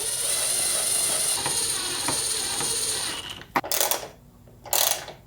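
Ratchet wrench turning two 10mm headlight bolts on a Nissan GTR, a steady close clicking for about three seconds, then a few short separate bursts of ratcheting.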